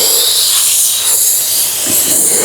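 A spray gun applies a sealer coat to a car panel, giving a steady, loud hiss of atomized spray that swells and eases slightly as each overlapping pass moves across the surface.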